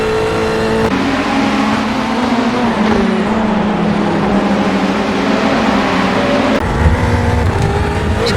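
Ferrari 488 race car in iRacing at Watkins Glen, its engine droning loud and steady under load, pitch sliding down and back up through gear changes and braking for a corner.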